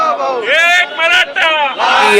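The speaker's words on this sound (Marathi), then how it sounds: "एकच भाऊ भाऊ अशा घोषणा देखील दिल्या जात आहेत" A celebrating crowd of supporters in Nashik, with coloured powder thrown, shouts a repeated two-syllable slogan in loud, ragged bursts of overlapping voices that rise and fall in quick succession.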